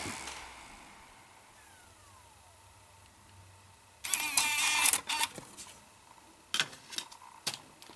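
A 2009 Mac Mini's slot-loading optical drive ejects a disc, with a burst of mechanical whirring and clicking partway through, then a few sharp clicks after a quiet start.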